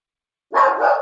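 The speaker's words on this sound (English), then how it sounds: "Yeah, that's a dog. I'll mute it." A dog barks in a quick burst of yelps close to the microphone, loud and alone after a moment of silence, heard during an online meeting.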